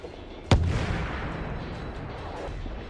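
A HIMARS rocket artillery launcher fires once with a sudden sharp blast, followed by a long, fading roar and rumble outdoors.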